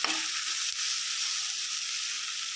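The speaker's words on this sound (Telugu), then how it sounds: "ఒకసేపు అలా ఫ్రై చేసుకోవాలండి." Onions and curry leaves frying in a pan, giving a steady, loud, even sizzle with a brief stir or clink near the start and no talking.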